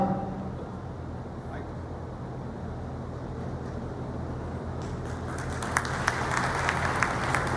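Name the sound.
audience applause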